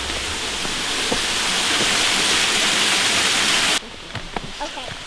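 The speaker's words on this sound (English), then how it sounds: "let's go check out these waterfalls" A waterfall near hiking and biking trails in Copper Harbor roars with a dense, close rush of falling water, then cuts off abruptly, leaving quieter outdoor sounds.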